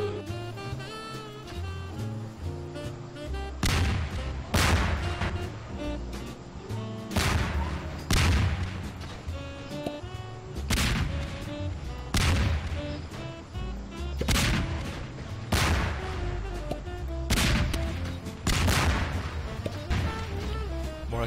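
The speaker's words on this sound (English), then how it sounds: "Explosions. We need more explosions." Explosions and gunfire-like bursts in the Garry's Mod game Melon Bombers, a series of loud sharp blasts recurring every second or two over a dense layer of game music.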